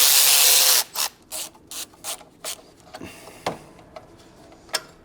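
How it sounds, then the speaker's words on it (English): Ratcheting clicks and sharp metallic ticks come from unbolting exhaust hangers under a BMW X5, opening with a loud burst of hiss and then a series of short, irregular bursts at close range with no talking. "I'm just gonna unbolt the hangers"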